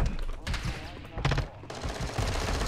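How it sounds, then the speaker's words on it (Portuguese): Gunfire crackles in the Modern Warfare 2 video game, with several sharp shots and short bursts overlapping in quick succession under a voice, as a sniper fires from a distance. "tinha um cara de longe me atirando ainda de sniper"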